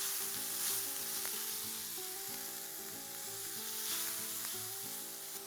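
A vegetable mixture with salt cooks in a pan, giving a faint, even sizzle that holds steady throughout, with a low hum underneath and a couple of light knocks, nearby and without talk.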